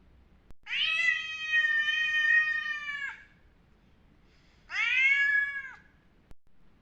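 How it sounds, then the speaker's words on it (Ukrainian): A cat meows twice, first a long drawn-out cry and then a shorter one after a pause, clear and close against a quiet background. "Котик."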